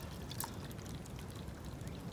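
Water pours steadily into a container outdoors at a chilly snowy campsite, a soft continuous gurgling stream close by under faint wind, with no talking.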